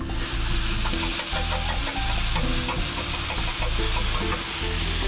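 Raspberries, butter and sugar stirred and broken down in a hot pan, a continuous close sizzling fry with scraping stir strokes throughout, no voices.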